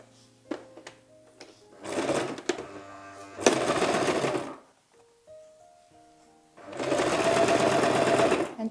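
A domestic sewing machine stitches bias tape onto a little girl's dress in three bursts of fast mechanical whirring, separated by pauses with soft handling noises and brief tones.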